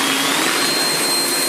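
An air umbrella fan running in turbo mode blows a loud, steady, even whoosh of rushing air up close, unbroken from start to end with no voices.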